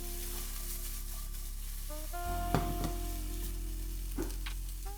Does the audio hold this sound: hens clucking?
no